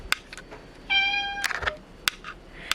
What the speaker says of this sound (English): My cat is going insane.